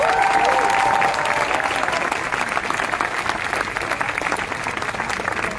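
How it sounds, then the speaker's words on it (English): A large outdoor crowd at an animal rights march claps and cheers for the organisers, dense sustained applause with a whistle early on, loud and steady throughout. "can we have a huge clap"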